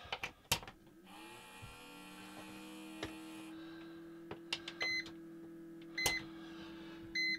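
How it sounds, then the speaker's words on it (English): Short electronic beeps sound in brief bursts from an egg incubator's low-temperature alarm, over a steady motor hum, with a few clicks and taps nearby. "the alarm sounds because the temperature is low"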